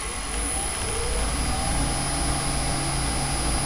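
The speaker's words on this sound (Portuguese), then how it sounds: "Então vamos ligar esse motor aqui. Vamos dar a partida aqui." An electric motor driven by a frequency inverter starts up and runs, giving a steady high electronic whine over a low, continuous mechanical hum with no talk.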